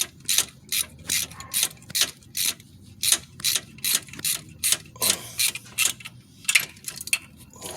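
A ratchet snugs down a crank sensor bolt on a Pontiac Grand Prix 3.8L 3800 V6 engine, with a sharp close-up clicking in quick bursts of strokes and brief pauses between them, and no speech.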